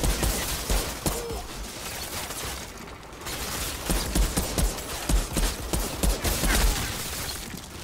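Pistol gunfire in the video game Outriders comes as rapid, dense bursts of sharp shots layered over constant loud combat noise, with no break through the whole stretch.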